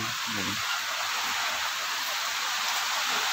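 Rain falling beside a house where grape vines grow in pots, a dense, even hiss that continues steadily, with a brief low murmur near the start.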